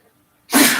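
One sharp sneeze bursts out suddenly after a near-silent moment at a city council meeting, loud and close, with no speech around it.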